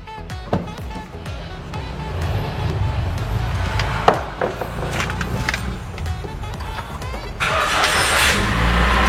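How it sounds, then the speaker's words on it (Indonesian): Car engine being started to check whether the battery is weak, with a rough, chopping cranking and engine sound running for several seconds, loud and close, then a steadier noisier stretch near the end. "Pada saat menghidupkan, apabila agak kurang jreng dihidupinnya, berarti itu memang akinya sudah waktunya ganti."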